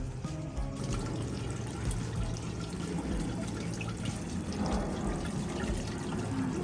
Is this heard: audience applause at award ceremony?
no